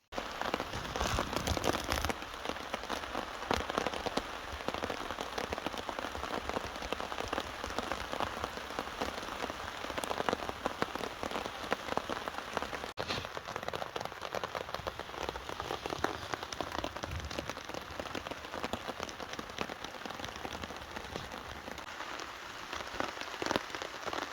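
Heavy rain pounds steadily on a tarp and tent in Galloway forest, a dense, even patter that continues without a break, fairly close and moderately quiet.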